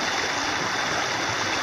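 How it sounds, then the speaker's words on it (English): A brook at the Stewart Hollow campsite and shelter flows steadily nearby, a constant bright rushing and burbling of water with no voices. "This brook is the water source for the Stewart Hollow campsite and shelter."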